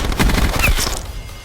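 Hip-fired KAP 45 handgun in Black Ops 4, a quick burst of gunshots in a brief close, loud flurry before fading to quiet.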